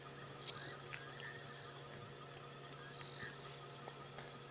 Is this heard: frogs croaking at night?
yes